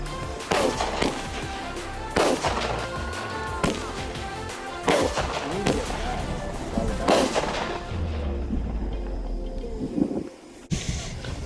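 A small consumer firework cake fires its shots outdoors, each one a sharp boom followed by crackling and whistling trails. Five loud reports come at roughly even intervals of about two seconds, then the sound fades into wind and distant noise.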